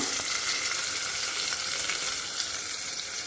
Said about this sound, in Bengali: প্রথমে আলুটাকে দিয়ে হলুদ দিয়ে একটু নুন দিয়ে ভালোভাবে নাড়িয়ে চাড়িয়ে ভেজে নেব।